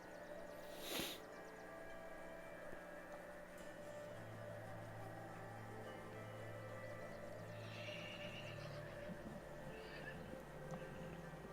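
A horse whinnies in a tabletop fantasy campaign session, a faint neigh rising out of a steady, busy background ambience with a few soft hoof-like knocks.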